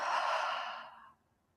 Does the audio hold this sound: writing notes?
no